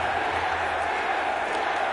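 A home arena crowd in the NHL 19 hockey game roars in a steady, loud wash of cheering for the New York Islanders, with no clear breaks.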